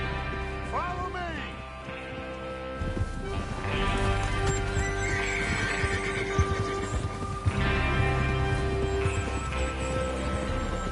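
Horses in the Western video game Red Dead Redemption 2 whinny loudly near the start, then hooves clip-clop steadily under a busy, layered backdrop of game sound.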